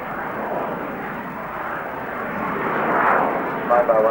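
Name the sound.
Sukhoi Su-27 jet fighter flying at an air show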